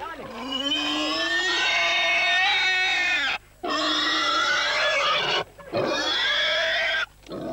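Loud, drawn-out pig squeals and grunts come in three long bursts separated by short pauses, close and harsh, at a market in the Bijagós archipelago.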